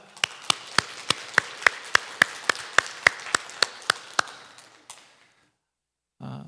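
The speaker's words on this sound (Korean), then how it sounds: "우리 함께 박수로 하나님께 영광 돌리겠습니다" Rhythmic unison clapping from a church congregation on Christmas Day, about sixteen sharp, evenly spaced claps in a roomy hall, then a pause and a brief low sound at the end.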